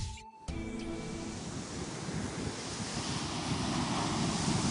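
Waves washing onto a beach form a steady broadband roar that slowly swells louder, alone with no voices, after a brief dropout near the start.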